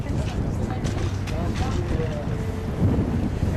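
Strong wind buffets the microphone outdoors during a torch lighting, a steady low roar across the whole clip with no clear voice on top.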